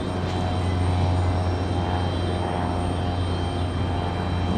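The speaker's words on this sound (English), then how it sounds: "Alaska 572 getting ready for departure." Alaska Airlines airliner preparing for departure at Raleigh-Durham airport, its engines giving a loud, steady whine and low hum throughout, constant and close with no voices.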